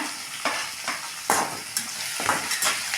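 Onions sautéing in a pan for a home dinner dish, a steady close sizzle broken by repeated bursts of stirring roughly every half second, with no talk.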